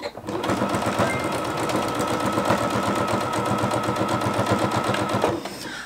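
Sewing machine stitching through a quilted fabric tote bag, running steadily with a rapid, even mechanical chatter for about five seconds before stopping, close and clear with no talk.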